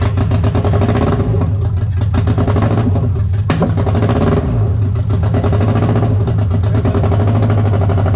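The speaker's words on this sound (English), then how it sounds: "It starts. It's running on 3 cylinders." Renault F4R engine in a rough, first-time start, running unevenly on three cylinders with a loud, continuous lumpy idle and a throbbing, pulsing clatter close by.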